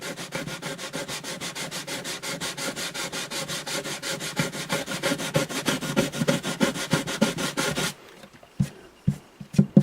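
Sandpaper rubs across a rosewood guitar bridge on an Alvarez Artist AD65 in quick, even back-and-forth strokes, close and steady for about eight seconds, then a few scattered scrapes and taps.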